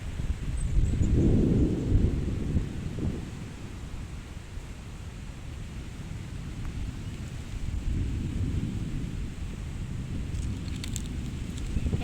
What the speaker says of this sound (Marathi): तर पाऊस आलाय